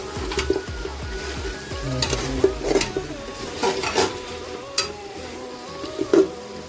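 Goat trotters (mutton paya) frying in spices in a pan, a steady low sizzle with scattered stirring scrapes and clinks up close, no talking.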